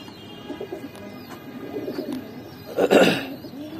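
A pair of Giribaz pigeons at a pigeon farm coo in soft, repeated low calls, close by, with a louder burst of cooing and fluttering near the end; no talk.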